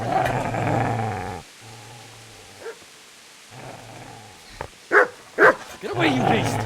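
A dog in the Kingdom Come Deliverance video game growls low and snarls, then lets out a few sharp barks near the end, close by, with a voice at the start.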